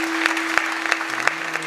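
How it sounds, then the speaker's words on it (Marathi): Clapping from a largely women's audience at a Marathi kirtan, with scattered hand claps and a few louder claps over a sustained tone in the background. "एकदा जोरदार टाळ्या वाजवा त्यांच्यासाठी"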